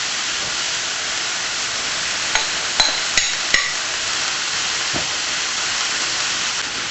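Marinated beef with ginger, noodles and seaweed sizzles in a hot pan, giving a steady loud hiss broken by a few sharp clanks of utensils.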